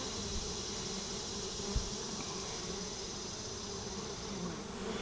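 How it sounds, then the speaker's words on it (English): Honey bees buzzing around a hive fitted with a pollen trap, a continuous dense drone of many wings at close range with no talk. "the bees will come out of the tubes when they come out of the hive"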